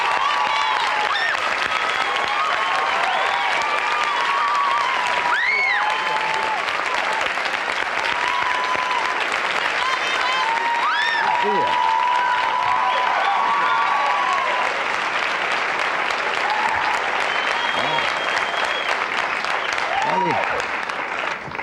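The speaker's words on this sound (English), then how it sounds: "the applause meter shows they like you." A studio audience at a 1990 Tonight Show taping gives Elton John loud, sustained applause: a dense, unbroken roar of clapping from many hands that lasts the whole stretch, with cheers and whoops rising above it.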